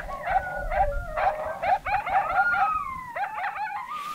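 Coyotes in New Mexico scrub give a run of yipping barks and wavering howls, several calls overlapping at moderate distance and fairly loud throughout.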